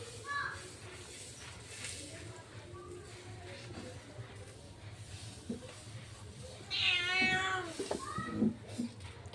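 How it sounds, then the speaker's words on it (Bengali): A cat meows close by in a home where sweet rice-flour pithas are being made, giving a few short calls and then a longer, drawn-out meow near the end, with people talking faintly underneath. "ওই দেখো এখানে ম্যাও ম্যাও করছে"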